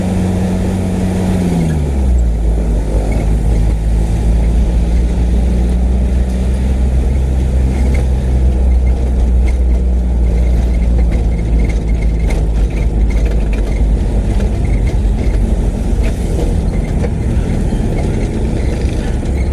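Heavy road traffic hums near a school exit on the way to Tala, Caloocan, with a steady loud engine drone and a rising then settling engine pitch early on, no voices over it.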